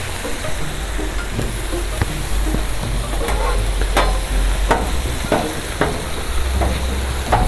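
Smashburger patties and onions sizzle steadily and loudly on a camping griddle, a constant frying hiss broken by scattered clicks and scrapes of a spatula flipping the meat.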